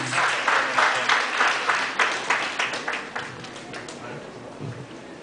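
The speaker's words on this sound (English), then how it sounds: "A big round of applause, please" Audience applause greets a guest speaker at a youth music festival event in Northern Luzon, a dense burst of clapping that gradually thins and fades over several seconds, with faint voices mixed in.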